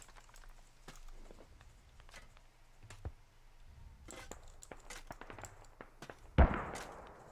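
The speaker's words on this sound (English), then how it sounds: "I'm gonna throw a frag" A frag grenade goes off in a military shooter video game, a single loud burst near the end that stands out over quieter background game noise and scattered distant gunfire pops.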